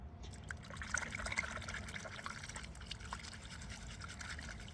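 Water trickles and runs steadily over poison oak bonsai roots as they are washed during repotting, a soft continuous flow with a low background rumble and small splashes throughout.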